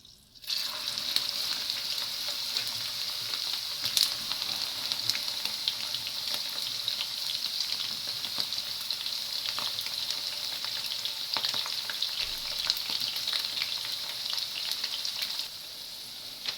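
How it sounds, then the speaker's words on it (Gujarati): Okra (bhindi) frying in hot oil for masala bhindi: a loud, steady, close sizzle that runs unbroken for the whole stretch, with a few faint pops and scrapes above it. "તેલ થઈ જાય પછી આપણે ભીંડા ફ્રાય કરી લઈએ."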